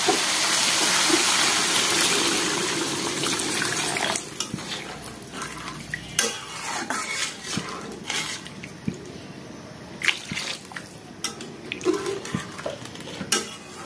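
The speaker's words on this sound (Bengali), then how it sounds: "এখানে পানি দিয়ে দিই।" Water gushes loudly into a cooking pot of fried potato and pointed gourd for a few seconds, then stops, followed by scattered clinks and stirring sounds of a utensil against the pan.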